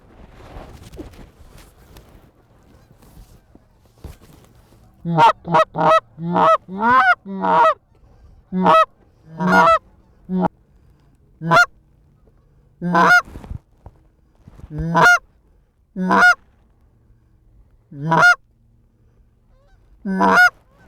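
Late-season Canada geese over the Missouri River, loud repeated honks arriving in irregular bursts of two to five calls, close and clear over a quiet background with faint stirring early on.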